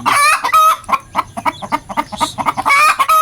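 Two sibling hens share one nest, one brooding while the other lays eggs, and they cluck in close, loud, repeated bursts with harsh crowing-like calls at the start and end.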